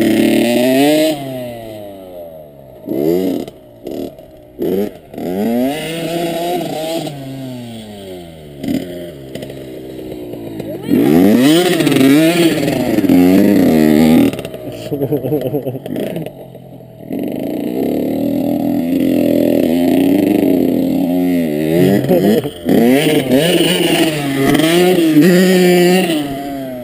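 Honda CR85 two-stroke dirt bike engine revving hard and bouncing off the limiter, with rising and falling pitch sweeps as it rides nearby, loud throughout with brief drops between bursts.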